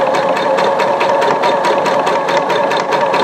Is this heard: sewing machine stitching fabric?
yes